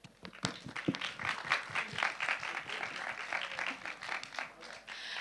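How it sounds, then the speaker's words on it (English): Applause from the audience at a youth festival conference for tolerance, many hands clapping in a steady patter at a moderate distance, with a few louder close claps and some voices mixed in. "Let's give a big round of applause to all the performers, speakers, and everyone who has contributed over the last day."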